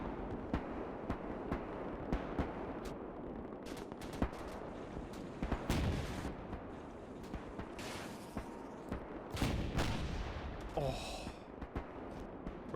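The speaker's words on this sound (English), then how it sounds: "Enjoy those distant gun sounds." Distant gunfire in the video game Gates of Hell during a large tank, infantry and air-support battle, with scattered far-off shots and short bursts crackling steadily at a low level throughout.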